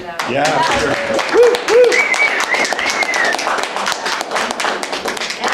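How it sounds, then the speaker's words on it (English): Audience applause for Lisa at the close of a public talk on Bill 78 and the criminalization of protest, a steady wash of many hands clapping with voices and tonal chatter mixed in over several seconds. "A good round of applause for Lisa."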